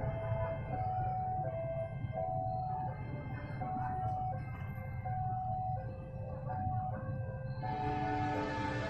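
A locomotive-hauled Pangrango train passes at kilometre 53.4 on the Bogor to Sukabumi line. A steady, loud rolling rumble carries sustained tonal horn-like notes throughout, brightening toward the end.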